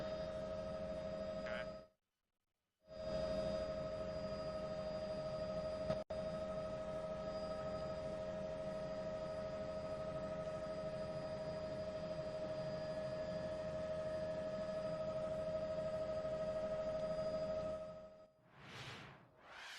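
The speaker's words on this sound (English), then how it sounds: "It means the chopper heading back to refuel." A news helicopter flies over a police scene at a Publix near West Palm Beach. Its engine and rotor make a steady, droning hum with a whine, broken by one brief dropout.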